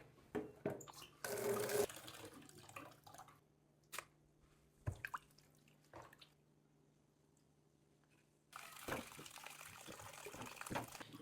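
Vegetables for jhalmuri are rinsed together under running water, with soft drips, splashes and squishy handling noises in bursts, a longer steady flow of water near the end; no talking.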